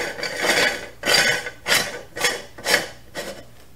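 A metal end ring is threaded by hand onto a LEM #32 meat grinder over a coarse plate and knife, giving rhythmic rasping scrapes in five or six close, even strokes.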